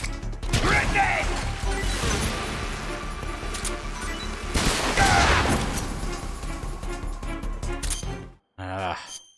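Grenade explosion and gunfire in Metal Gear Solid 3 sound as loud crashing blasts and clattering shots over a dense, continuous action din, with two heavier booms before a brief drop into near silence.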